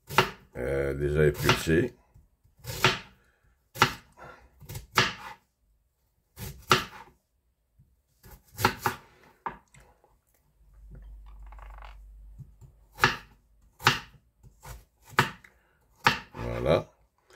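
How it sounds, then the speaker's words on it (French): A knife chops through halved, peeled sweet potatoes in a kitchen, producing a run of sharp, separate cutting knocks with pauses between them. A voice speaks briefly partway through. "je vais continuer à couper la moitié des patates douces que j'avais"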